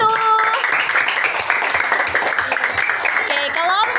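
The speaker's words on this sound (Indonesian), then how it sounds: "Boleh tepuk tangan untuk kelompok 1." A classroom of pupils in a Quran recitation lesson claps for the first group, a steady burst of many small hands with children's voices calling out over the start and end.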